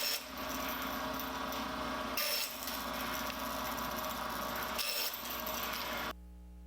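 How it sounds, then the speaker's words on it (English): Power saw cutting oak makes a loud, continuous whining drone with a couple of short pauses in the cut, then stops near the end. "I ripped down at the table saw and then cross-cut on the bandsaw"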